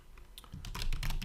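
Someone types on a computer keyboard while building a website header, a quick run of close, crisp key clicks that grows denser and louder toward the end, with no voices.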